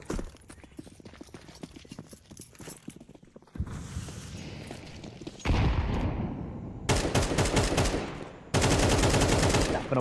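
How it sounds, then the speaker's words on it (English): Rapid bursts of AK rifle fire in a Counter-Strike esports match, loud staccato volleys stacking up in the second half after quieter, sparse game noise at the start. "Away with the AK, spams through the smoke, further damage dealt."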